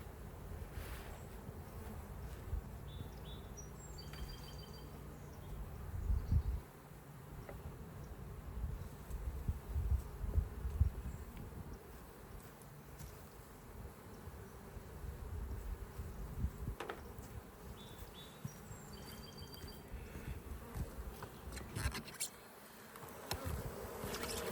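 Honeybees buzz continuously around an open beehive during an inspection, a dense, steady drone close by with individual bees passing near and occasional faint handling noises.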